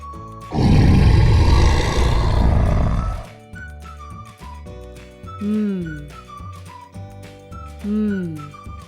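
A deep monster roar bursts out loud and rumbling for about three seconds, then gives way to a bright, playful tune with whistling glides.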